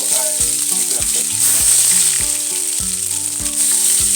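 Sliced fish roe sizzling loudly in smoking hot oil in a small pan, a steady close crackling fry throughout with music playing underneath.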